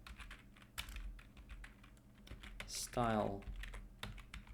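Keys clatter steadily on a computer keyboard while someone types a line of CSS-related web page code, with a short stretch of close speech breaking in partway through.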